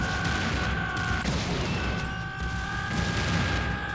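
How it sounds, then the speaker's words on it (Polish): Rapid gunfire and booming explosions from the co-op video game Serious Sam 2, a dense continuous barrage with a sustained tonal whine running through it. "Szkoda, że po chwili wybuchają."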